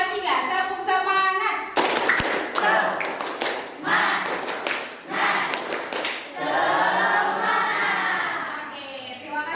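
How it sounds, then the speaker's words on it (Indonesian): A school class doing a rhythmic spirit clap, bursts of hand claps and taps alternating with children's voices chanting along, loud and close in a classroom. "1, 2, 3, tepuk semangat."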